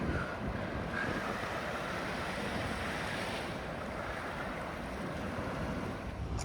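Surf rolls in continuously at Green's Pool beach at dusk, a broad, steady wash of breaking waves with wind buffeting the microphone and no voices.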